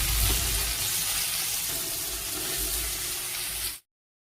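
Chopped onion and garlic frying in a pan for a leafy-greens dish, a steady broadband sizzle close by with faint stirring scrapes, continuous for nearly four seconds before cutting off abruptly.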